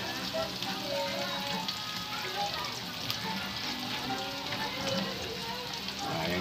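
Garlic sautés in a hot pan with a steady, close sizzle and crackle, with someone talking quietly over it.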